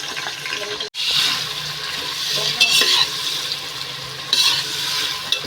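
Onions and whole garlic cloves frying in oil while being stirred in a pan, a loud continuous sizzle with scraping stirs and a brief cut near the start.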